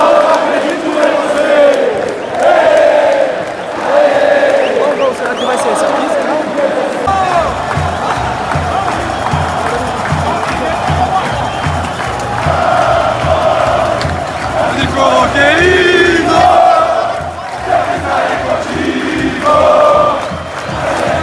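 Football fans of São Paulo and Vasco at a Copinha 2019 youth final fill the stadium with loud crowd noise, roaring and chanting in sustained waves with rhythmic pulsing, massed voices swelling and dipping throughout.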